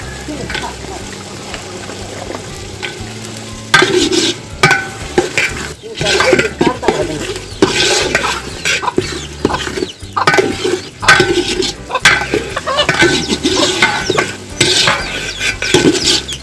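Boiled chickpeas being stirred into frying khichuri in a pot, with loud repeated scraping and clattering of a spoon over a frying hiss, and a voice speaking intermittently between strokes.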